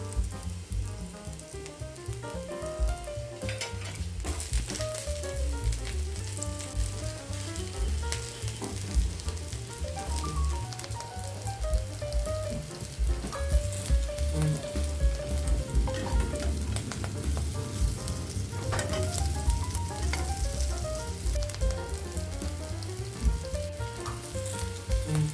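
Beetroot vegetable cutlets fry in a pan of oil, giving off a steady, dense sizzle with crackling bursts that runs unbroken and fairly loud from start to finish, with no voices.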